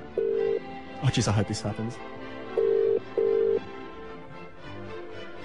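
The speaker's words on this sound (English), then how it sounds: "let's give this hospital a call and see if we can get Kate Middleton or maybe even Prince Wills on the phone tonight. So the number's going in." A telephone line during a radio prank call to a hospital gives short, steady, single-pitched tone bursts: one, then a pair a couple of seconds later. A voice briefly speaks between them.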